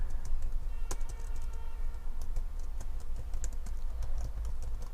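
Continuous, rapid typing on a computer keyboard, with close, crisp key clicks that keep an uneven but steady rhythm throughout and no talking.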